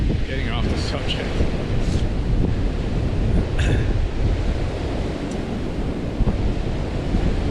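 Surf rolling onto a beach near Bali, a steady broadband wash of breaking waves with wind buffeting the microphone, continuous and fairly loud, with occasional faint voices in the background.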